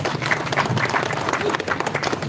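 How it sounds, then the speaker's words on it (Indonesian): Close, lively applause from an audience at a bonsai demonstration, brisk hand claps running throughout with voices chattering underneath. "Oke, tepuk tangan untuk Pak Rudi."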